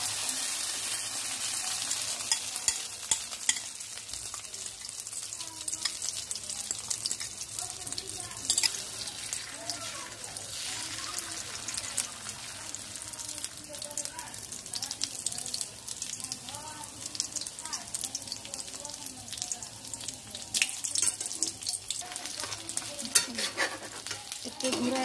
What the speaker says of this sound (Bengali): এখন আমি কড়াইয়ের ভিতরে ডিমটা দিয়ে দিলাম।